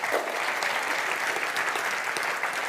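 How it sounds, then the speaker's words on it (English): An audience claps steadily and densely throughout, a continuous wash of many hands with no break and no voices on top. "Let's clap it up for them."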